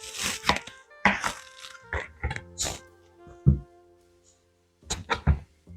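A knife cuts through a rinsed apple on a cutting board, giving a series of sharp close chops and thunks in uneven bursts, then a short pause and a few more cuts, with no one talking.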